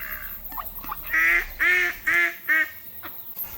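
Ducks at a wildlife nature reserve in Wellington, New Zealand, give four loud, close honking quacks in quick succession, with softer calls and faint background noise between them.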